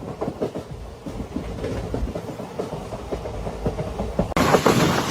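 An Indian passenger train runs on a single electrified line, with steady rhythmic clickety-clack of wheels over rail joints and a constant rumble heard from inside, growing louder and brighter near the end.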